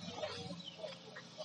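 Chickens cluck softly at a distance, giving a few brief, quiet calls over a low background murmur.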